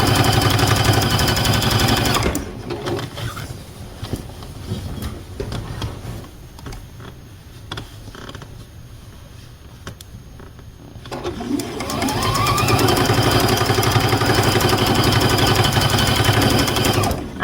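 A sewing machine stitching quilt binding with teal thread runs in a steady rapid whir, pauses for several seconds of quieter handling sounds, then starts up again at the same even pace.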